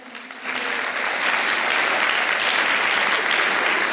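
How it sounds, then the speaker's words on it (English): Crowd applause at a showjumping roadshow event for two stallions, dense clapping that builds within the first half second and continues steadily at full strength. "Perhaps we can have a big round of applause for these two stallions."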